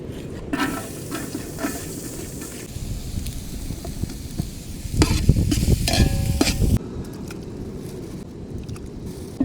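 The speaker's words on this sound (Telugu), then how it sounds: "ఆల్రెడీ ఉల్లిపాయలు ఎగిపోతున్నాయి." Onions fry in a large pan at a beach campsite at night, with a loud continuous sizzle broken by bursts of stirring and clattering against the pan.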